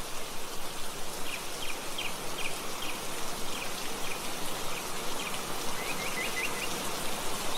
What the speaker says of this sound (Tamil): பயங்கரமாக மழை வர மாதிரி இருக்குது. மழை ஸ்டார்ட் ஆகிடுச்சு.